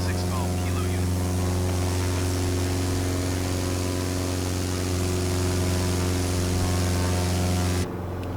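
A Piper PA-28R Arrow III propeller engine drones steadily in Flight Simulator 2020, a loud, even hum with strong tonal harmonics that holds unbroken, dipping slightly at the very end.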